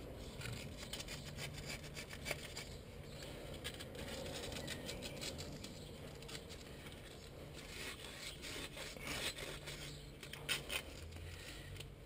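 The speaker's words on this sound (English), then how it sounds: "I'm just going to use a little bit of emery cloth and just give it a little bit of a wipe off between all the studs" Emery cloth rubs across a Ford Mondeo front brake hub between the wheel studs, a quiet, continuous dry scraping with a repeated back-and-forth rasp.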